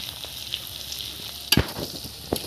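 Garlic frying in hot oil for khichdi, a steady soft sizzle with a sharp burst of crackling as it is stirred midway and another short flare near the end, with no talking.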